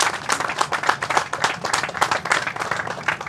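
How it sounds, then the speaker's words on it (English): Audience at a construction groundbreaking ceremony gives a round of applause, a steady, fairly close patter of many hands clapping without a break. "give Peter and the Banks and Hensel Phelps a big round of applause"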